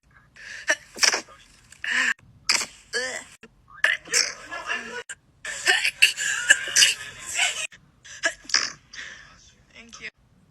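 Repeated human sneezes, a rapid series of short sharp bursts with gasping breaths between them, close and fairly loud, scattered across the stretch with brief pauses.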